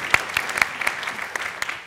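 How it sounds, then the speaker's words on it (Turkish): A short burst of scattered clapping from a TV game-show studio audience, with light claps dotting the whole two seconds. "O zaman benim kameramanlara bir alkış gelsin"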